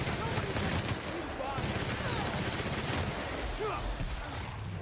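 Dense, continuous video game gunfire from The Outer Worlds, with overlapping shots and combat noise forming a steady, loud wash across the whole stretch.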